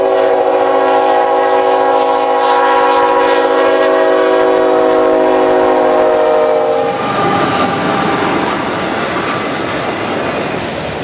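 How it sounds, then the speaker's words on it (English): A Union Pacific MBZ-YC auto freight train to Yard Center rolling north across Highway 114 in Illinois, a loud sustained multi-tone horn blast giving way to heavy rumbling and squealing wheels and rushing cars, close by. "An MBZ-YC auto train to Yard Center rolls north across Highway 114."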